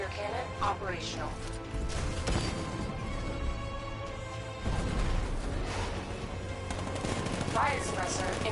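Heavy gunfire and booming 60mm tank cannon blasts from the video game Batman: Arkham Knight, with sharp impacts and mechanical clanks over a dense, continuous battle din.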